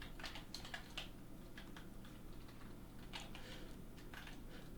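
Rapid, uneven clatter of keys on a computer keyboard while Python code is typed, with bursts of quick clicks and brief pauses, fairly close and moderately quiet over a steady low room hum.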